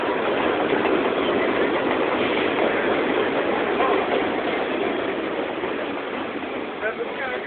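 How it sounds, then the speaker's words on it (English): A Queens-bound 7 local train on the New York subway pulls into the station, its rumble steady and loud for the whole stretch and easing slightly toward the end. A voice may sound faintly over the roar. "The next Queens-bound 7 local train is now arriving."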